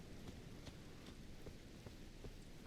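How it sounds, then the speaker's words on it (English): Rain falls in the video game Elden Ring: Shadow of the Erdtree, a soft, steady patter with scattered distinct drops at low volume. "Aha! It's finally raining."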